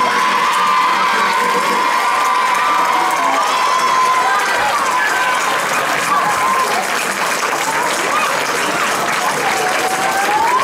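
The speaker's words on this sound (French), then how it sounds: "je voudrais qu'on lui fasse un tonnerre d'applaudissements" A large audience gives thunderous applause, loud and sustained, with cheering and shouts mixed into the continuous clapping.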